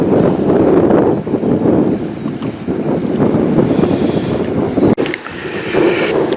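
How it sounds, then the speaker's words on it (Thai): Strong, gusty wind buffets the microphone on a fishing boat at Lam Takhong reservoir on a cold day, with a constant loud roar and rumbling bursts. A sharp knock lands near the end. "ลมแรงมากเลยครับ ขอบอก"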